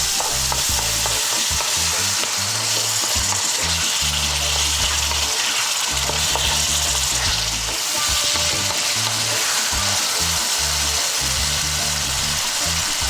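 Fresh tomatoes sizzle loudly in a hot pan alongside Chinese-style clams and seafood, a steady dense frying hiss with busy stirring clatter throughout, no voices.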